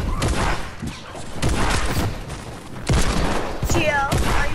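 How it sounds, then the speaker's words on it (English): Shotgun blasts in an online shooter game come in several loud bursts spaced a second or so apart, with players chattering over the gunfire. "I hear shotgun."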